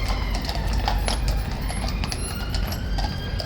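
King's Guard horse hooves clip-clop at Horse Guards in London, sharp repeated strikes on hard ground set over steady outdoor street noise and a constant background hum, with the hoof clatter fairly near and continuing throughout.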